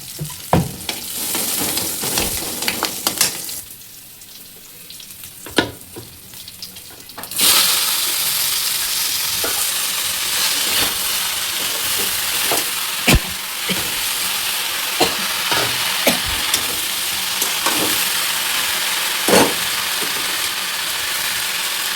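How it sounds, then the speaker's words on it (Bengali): Leafy greens frying in hot oil with a generous pinch of black cumin, a steady close sizzle and crackle that jumps louder partway through, with scattered stirring clicks and no talking. "তেলটা হলে তো শাক রান্না করবো, বেশি করে একটু কালো জিরে দিয়ে"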